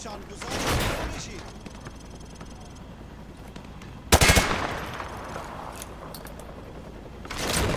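Gunfire in Call of Duty Modern Warfare 2 Campaign Remastered, with a sharp burst of rapid shots in the middle and further bursts at the start and end, mixed with game sounds and talk.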